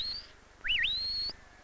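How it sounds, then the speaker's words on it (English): A shepherd's whistle to a dog: a short high note, then a looping, swooping whistle that settles into a held tone, clear and close. "Shepherds command the dogs with words or by whistling"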